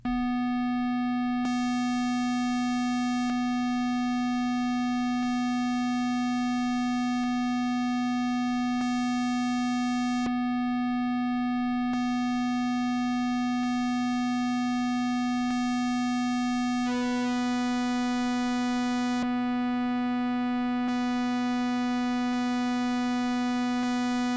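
A sine wave test tone run through the EarthWorm OPA distortion plugin with distortion fully up, a steady harmonic-rich buzzing tone that abruptly changes character partway through and then holds, alone with no talk.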